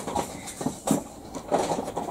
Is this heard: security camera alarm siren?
no